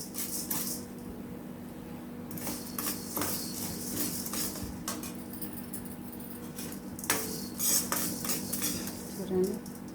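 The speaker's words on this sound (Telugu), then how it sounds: "ఇలా మంచిగా మాడిపోకుండా వేయించాలండి." Curry leaves and drumstick leaves dry-roasting in a pan, stirred with a metal spoon: close, irregular scraping and clinking against the pan in bursts, with a faint background hum.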